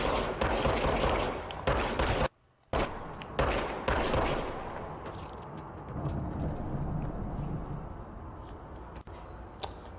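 Gunfire in the video game Control on the Nintendo Switch: dense bursts of rapid shots in the first four seconds, broken by a brief silent gap, then a fading noisy tail with a faint later click.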